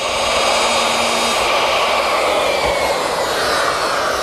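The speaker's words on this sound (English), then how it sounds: "I use my router with this guide fence and a 3/4 inch straight cutting bit." A router with a 3/4 inch straight bit and guide fence mills a stop dado in pine, a loud continuous high whine with a dense rushing roar, steady and close with no talk.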